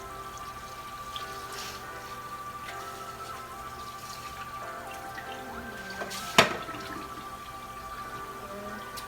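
Water running down hair during a wash-day soak, a soft continuous trickle and patter of drips with a sharper splash near the end, heard up close without speech.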